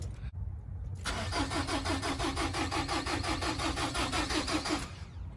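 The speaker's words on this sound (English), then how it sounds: "We are getting the crank but no start. Go ahead and start it off." A 2005 Nissan Altima engine cranks steadily without catching, a rapid rhythmic starter chug running loud and close for about four seconds after a brief pause, with no voices.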